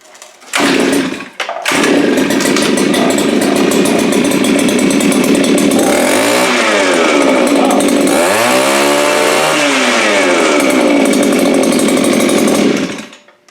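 A Viper ice auger's small two-stroke engine roars at wide open throttle, a loud continuous high-pitched whine with a brief pull-start burst first and pitch sweeps as the revs shift, running alone until it cuts off.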